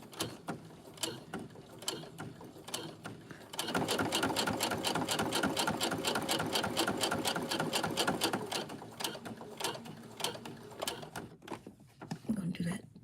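Sewing machine top stitching fabric, its rapid rhythmic needle clatter running loud and steady for about five seconds amid quieter start-and-stop stitching, with soft talk throughout.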